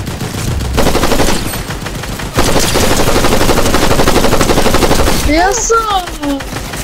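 Rapid automatic gunfire in the Fortnite video game rattles loudly and almost without pause, followed by bright chiming game effects near the end.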